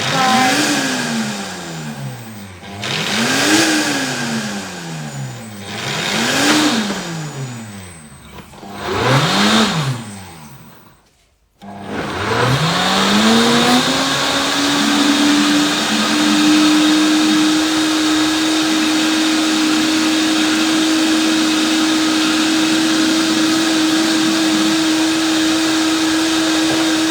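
A Froothie Optimum G2.6 blender whizzes a thick pink smoothie bowl, first in several loud pulsed bursts with rising and falling pitch, then after a brief pause as one long steady high-powered run, close and loud.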